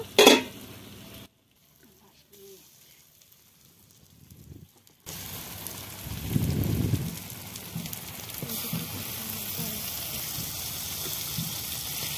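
Chicken dropped into oily, well-fried spice masala for a tandoori-style chicken kosha: a sharp clatter, a quiet gap, then a loud burst of sizzling that settles into a steady, close frying crackle.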